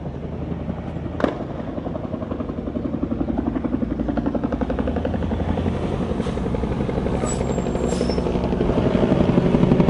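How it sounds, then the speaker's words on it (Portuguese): A police helicopter flies overhead with a steady, loud rotor chop that builds slightly over time, alone with no talking. "Esses helicópteros, eles também são blindados, tá, pessoal?"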